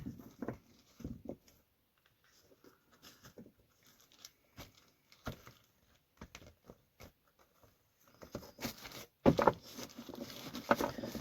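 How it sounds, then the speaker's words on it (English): Soft papery patter and light riffling of cards being shuffled in bursts, near and quiet, with a louder flurry of shuffling toward the end. "Why my cards don't want to shuffle tonight."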